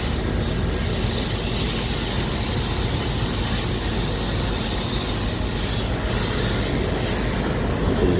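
A train at a station gives off a loud, continuous rumble of broadband noise that stays steady for the whole stretch, with no clear pauses.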